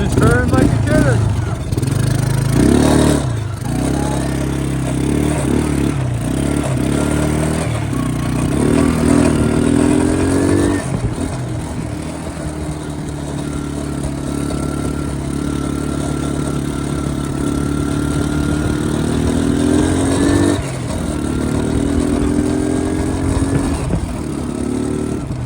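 An LT185 lawn tractor engine runs for a long stretch, chugging steadily with clattering texture and repeated rises and falls in revs, close and fairly loud, with someone talking over it.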